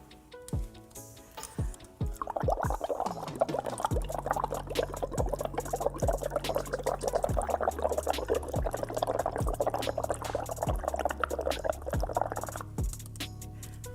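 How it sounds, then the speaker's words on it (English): Air blown through a tube into water makes a sustained burbling stream of bubbles for about ten seconds, bracketed by sharp clicks and knocks of equipment. "what happens when you simply blow a little bit of air into the water?"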